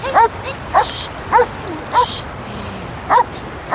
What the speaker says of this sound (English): Dog belongs to the guy who found it.